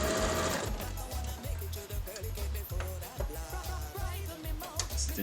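Sewing machine stitching fabric for a mask, a rapid mechanical chatter in quick bursts with short pauses between, close and clear, with only a faint voice now and then.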